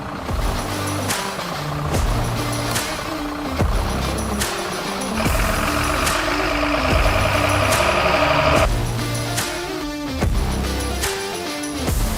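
A Mercedes-Benz truck engine rumbles loud and close on a snowy mountain road, a steady heavy drone that shifts slightly in pitch and intensity, with no voices.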